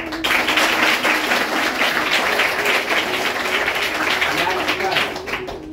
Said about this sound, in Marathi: मोठ्याने एकदा टाळ्या वाजवून स्वागत करूया.